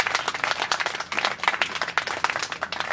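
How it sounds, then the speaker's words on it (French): An audience at a political gathering breaks into sustained applause, dense, irregular clapping filling the room at an even, lively level for a few seconds. "Je voudrais vraiment qu'on puisse encore une fois l'applaudir."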